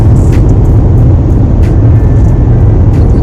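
Steady low rumble of heavy road traffic on the way to Brisbane, heard from inside a moving car as a dense, constant drone with a few faint clicks.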